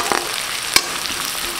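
Curry leaves and small shallots with a dried red chilli crackle in hot oil for a brinjal and dry fish curry, a steady close sizzle with a couple of sharp pops and stirring.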